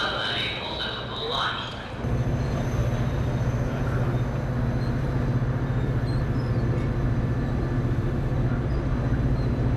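A train waiting at a station gives off a steady low rumble and hum that swells in after a couple of seconds and holds evenly to the end, with people talking at the start.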